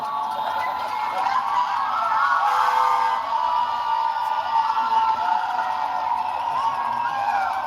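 A large protest crowd in Las Vegas shouts and cheers in a steady, dense roar heard from a distance, with no single voice standing out.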